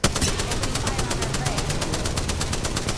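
Rapid automatic gunfire in a battle-royale video game, a loud, steady stream of evenly spaced shots running the whole stretch, with a player's voice over it.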